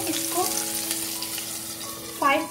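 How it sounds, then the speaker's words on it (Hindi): Chicken hara bhara kebabs sizzle and fry in a pan over a low gas flame, a steady close crackle throughout with a brief clink near the end. "देखिए मैं पैन में ये कबाब को डाल दिया हूँ।"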